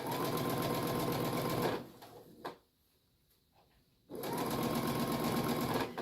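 Sewing machine stitching slinky fabric for a face mask, a loud, steady whirring run that stops for about two seconds, with small handling clicks in the pause, then starts again at the same pace.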